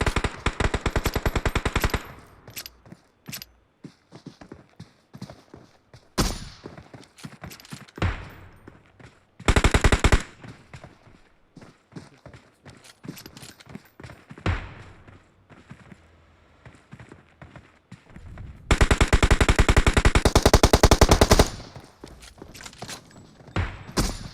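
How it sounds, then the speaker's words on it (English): Bursts of muffled gunfire in PUBG Mobile, including a suppressed Kar98 sniper rifle, some rapid and sustained, others single cracks, scattered over quieter stretches of ambient noise. "Zal from Team D12 with that suppressed Kar9. Is there a sound that's more beautiful than that?"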